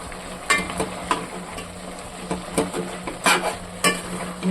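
A spoon stirs country chicken curry with garam masala and coriander in a pan, scraping and clinking at irregular intervals over a soft, steady sizzle.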